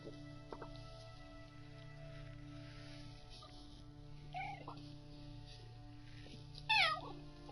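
A cat gives a short, faint meow at a distance, then a louder, clearer meow near the end, over a steady low indoor hum.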